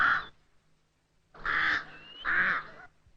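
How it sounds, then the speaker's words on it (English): Animated cartoon bird with a crow-like call gives three harsh, nasal caws, one short and two longer, with brief silences between them, clear and close. "What a very intelligent bird"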